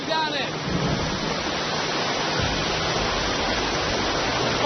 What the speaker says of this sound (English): You see there's a huge amount of water going down it.